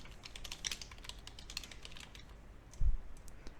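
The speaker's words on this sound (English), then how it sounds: "or you can type it straight into the field." Steady typing on a computer keyboard while filling in an online property listing form, with a quick run of close, light key clicks and one heavier thump near the end, no voices.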